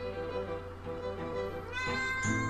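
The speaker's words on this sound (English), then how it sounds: "Apologize for the cat." A cat meows close by in a room, its drawn-out cries rising in pitch near the end over a steady low background hum.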